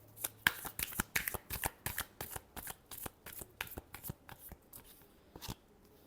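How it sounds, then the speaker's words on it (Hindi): A tarot deck being shuffled up close, a quick run of crisp riffling card snaps repeating in an even rhythm for about six seconds, soft and dry with no voice. "Last shuffle."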